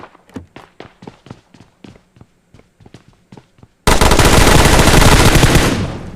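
Footsteps patter in a PUBG Mobile firefight, then a loud, sustained burst of automatic gunfire erupts and rattles on close up for about two seconds before tailing off.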